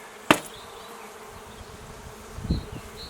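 Bees hum softly and continuously in an opened hive box during a spring inspection, close by, with a sharp knock at the start and a brief thud of handling later.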